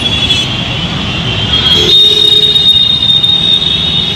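A metro train at Govindpuri metro station in Delhi runs close by, its wheels screeching high and loud over a heavy continuous rumble of rail cars for several seconds, with no talk.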